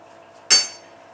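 A single sharp metallic clink of a teaspoon against a cooking pot as a heaped spoonful of vegetable stock goes into split pea and ham soup, ringing briefly and fading, with no talk.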